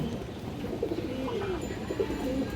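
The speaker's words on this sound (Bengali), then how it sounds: "দ্বিতীয় পেয়ার দর্শক এখানে ডাকাডাকি করতেছে দেখেন" A pair of fancy pigeons cooing close by, repeated soft throaty coos rising and falling over steady background noise, with no talking.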